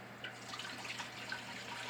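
Apple juice from a steam juicer pours into a jar in a brief, faint, steady liquid trickle with small splashy drips, with no talk.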